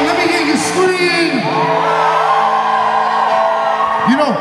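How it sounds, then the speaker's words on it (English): Festival crowd at a Southeast Music Festival gospel concert whooping and shouting, a steady roar of voices close by with several rising and falling yells on top. "Come on, let me hear you scream."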